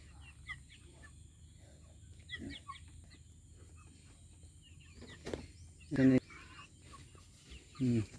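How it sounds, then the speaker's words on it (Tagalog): Chickens cluck and call softly on a small farm, with several louder bursts of clucking near the end while a person talks quietly nearby. "Pakainin ko muna yung mga chicken ko."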